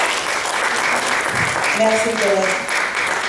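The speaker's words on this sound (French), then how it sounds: "je demande qu'on applaudisse ça" Audience applause at a French gathering, dense and steady clapping throughout while someone speaks over it near the end.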